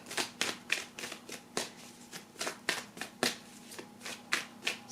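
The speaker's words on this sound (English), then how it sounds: "I'm going to pull a surrender card here" Cards from an oracle deck being shuffled and pulled, a run of quick crisp papery riffles and flicks repeating in an uneven rhythm, close and fairly soft, with no talking.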